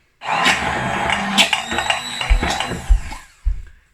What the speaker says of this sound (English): And gonna blend it up.